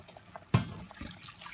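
Two cups of water are poured into a salted mixture while making fish mixiotes, giving one soft splash followed by light trickling and dribbling, close and fairly quiet.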